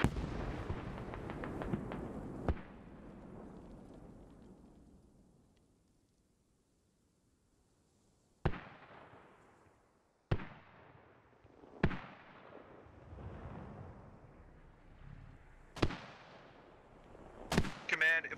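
Sharp shots crack out in Squad, a military video game: a dense burst at the start, then a quiet lull before single loud reports arrive every second or two, each trailing off into a rumbling echo.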